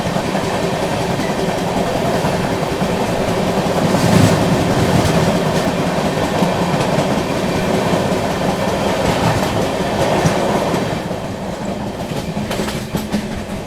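Punjab Mail express running from CSMT to Ferozepur Cantt passes close by at a station near Delhi, a steady loud rumble of rolling coaches with rhythmic wheel clatter sustained throughout before easing slightly at the end.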